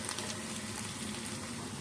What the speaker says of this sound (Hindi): खड़े मसालों को भी हम 1 मिनट के लिए फ्राई कर लेते हैं।